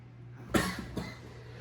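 Two short coughs about half a second apart, the first louder, close to the mic over a low steady hum, with no talk.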